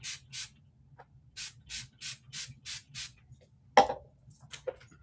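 Quick spritzes from a spray bottle: a rhythmic run of about seven short hissing bursts, then a clunk and a few softer sprays, close by.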